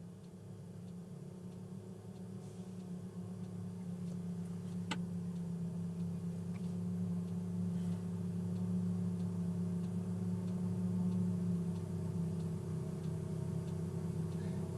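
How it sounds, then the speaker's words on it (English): Forage chopper cutter head running steadily with the engine off nearby, a continuous low growling drone that swells slightly over time, with a single sharp tick partway through. "You can hear that cutter head."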